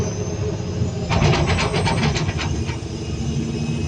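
The diesel engine of a CAT 320D L excavator suffering low power runs steadily up close, a loud continuous rumble with a brief burst of rhythmic clattering pulses partway through.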